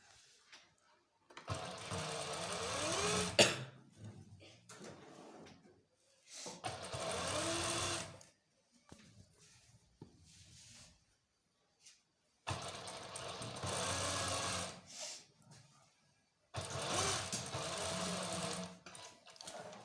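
A sewing machine stitches a curved back-neckline seam in bursts of fast, steady whirring, four or five runs separated by short pauses, close and clear with no talk.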